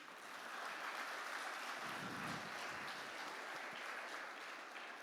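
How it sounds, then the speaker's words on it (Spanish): A church congregation applauds together, a soft, even patter of many hands heard from a distance and held steady for about five seconds with no voices over it. "Denle un aplauso al Señor."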